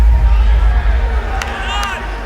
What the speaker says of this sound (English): for the first time tonight, the crowd has a chance to stand and cheer